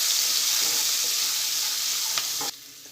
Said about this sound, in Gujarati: આદુ મરચાં અને લસણની પેસ્ટ 1 ચમચી એડ કરીશું અને સાતળી લઈશું